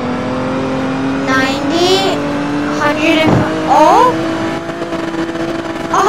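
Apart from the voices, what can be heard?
police Ford Mustang accelerating to top speed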